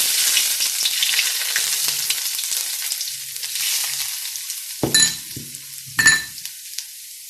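Ginger dropped into hot oil in a wok for Mongolian beef, a bright steady sizzle that slowly eases, then two sharp metallic scrapes and clinks of stirring near the end, close and with no talk.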